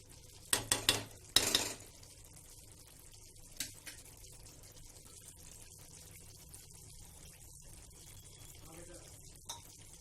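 A spoon stirs Mughlai chicken in a metal pan, giving a few quick, close clinks and scrapes at the start. Faint, sparse taps follow over a quiet kitchen background.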